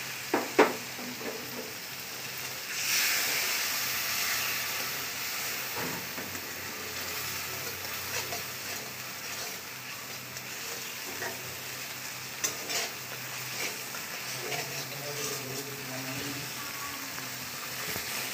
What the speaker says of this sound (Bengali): খুব সুন্দরভাবে মশলাটা ফুটছে